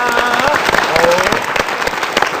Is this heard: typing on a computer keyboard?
no